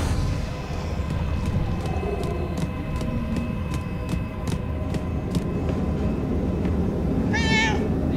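A cat in the video game Murdered: Soul Suspect gives a single short meow near the end. Rhythmic ticking and ambient game noise run beneath it throughout.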